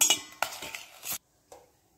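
Pots and metal utensils clink and clatter as a cooking vessel is picked up in a home kitchen, a burst of sharp metallic knocks followed by a pause and one lighter clink.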